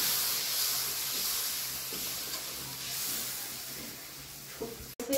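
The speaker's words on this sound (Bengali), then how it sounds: "মশলা কষা হয়ে গেছে, এরপরে আমি বাটা মশলার জল দিয়ে দিচ্ছি।" Water from ground spice paste poured into spices frying in a pan for a Bengali egg curry gives a steady, fairly soft hiss and sizzle of steam throughout, with a brief clatter near the end.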